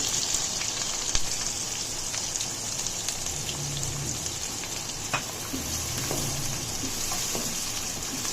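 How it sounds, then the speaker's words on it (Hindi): Onions frying in hot oil for a masala bhindi gosht, a steady, dense sizzling hiss that continues throughout with a few faint crackles and no talking. "फ्राई करेंगे प्याज़ों को।"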